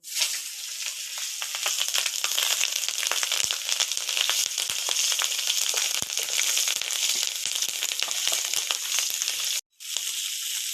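Loud, dense crackling sizzle of green chilies frying in hot oil, constant and close, with a brief cut to silence near the end.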